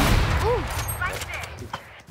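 Gunfire in the shooter game Valorant, a few sharp shots amid busy game noise, with talk and game callouts around them.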